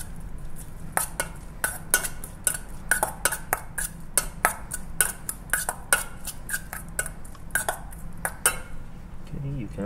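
A utensil mixes sushi filling with scallion in a bowl, making a quick run of close, sharp clinks and scrapes in an uneven rhythm over a soft background hum.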